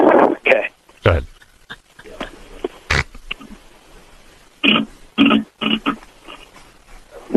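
A voice imitates a wet fart, producing a series of short, sputtering, bursts with pauses between them, close to the microphone.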